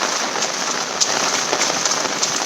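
Heavy monsoon rain pours steadily in Konkan near a swollen river, a dense continuous hiss of drops close by with no voices.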